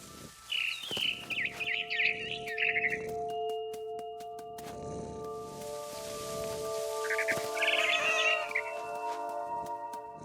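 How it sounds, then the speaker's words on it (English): Barn swallow chirping near its nest in the video game What Remains of Edith Finch, two bursts of quick twittering calls over a soft ambient hum and light movement sounds. "Then I heard chirping outside my window. It was a barn swallow going back to her nest."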